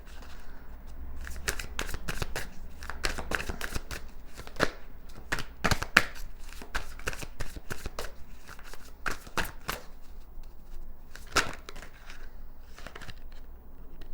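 Tarot cards shuffled by hand close to the microphone, a steady run of crisp riffling snaps and flicks in irregular bursts with no voice.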